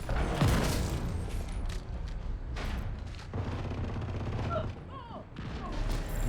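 Gunfire and mortar strikes rattle through a firefight in The Division 2, with dense bursts and heavy booming thuds over several seconds, close and loud, while voices call out over the shooting.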